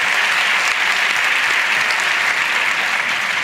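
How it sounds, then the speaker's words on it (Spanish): Loud, dense audience applause from a live comedy podcast crowd, continuous and even throughout with no voices over it. "Un aplauso para Eugenio."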